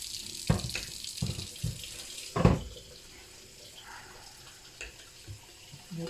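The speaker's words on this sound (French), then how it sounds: "Je vais rajouter un peu d'eau. De l'eau chaude, hein." Hot water poured into a cooking pot of shrimp with lentils and meatballs, a few close splashing gushes and bursts of running water over a quiet kitchen background.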